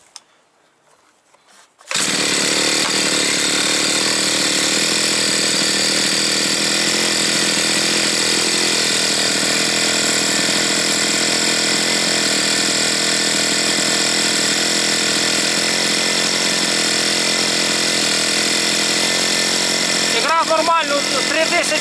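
A new petrol brush cutter fires up after a brief quiet start and then runs continuously at a loud, steady buzzing pitch, close by, with a short change near the end.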